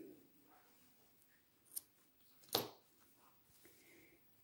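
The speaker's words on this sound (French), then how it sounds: "vous pouvez déjà couper vos fils" Scissors cutting crochet yarn threads, two quiet snips with a sharper one near the end, surrounded by faint handling rustle and near-silence.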